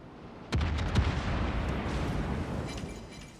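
The battleship Hood fires in World of Warships: Legends: one sharp, loud boom followed by a second heavy report and a long, rumbling tail of distant gunfire fading over several seconds.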